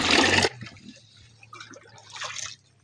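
Water gushes loudly at an outdoor water source where a bucket is filled, then cuts off, leaving faint trickles and splashes with a brief surge again later.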